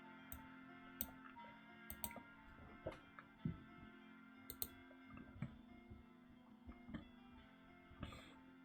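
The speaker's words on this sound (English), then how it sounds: "I'm just typing out the stats for you." Quiet, irregular clicks of keys being typed on a computer keyboard, close and faint, with short bursts and pauses and no talking.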